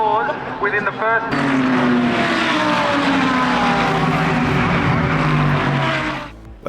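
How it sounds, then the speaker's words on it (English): Race cars run around Mount Panorama at Bathurst at night, a loud sustained engine roar from close by that holds for several seconds, with a brief voice before it starts and fading near the end. "seeing these cars rip around Bathurst in the dark"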